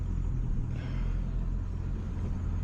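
An OBS Ford truck with a 450hp tune rumbles along at steady low speed, a deep continuous drone from inside the cab with no talking.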